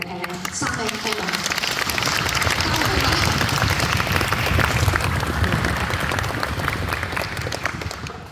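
A concert audience at a Hong Kong Reading Orchestra performance gives sustained applause for three guest performers, a dense, steady wash of clapping that swells and holds across the whole stretch.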